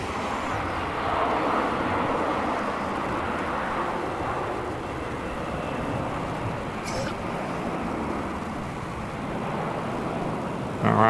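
A Sri Lankan airliner takes off at Melbourne Airport at night, its engines a steady broad roar heard from the terminal for the whole stretch, with a brief sharper noise right at the end.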